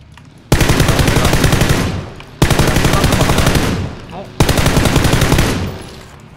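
Three loud, close bursts of automatic machine gun fire in the battle royale game PUBG, each a rapid stream of shots lasting about one and a half seconds, separated by short pauses.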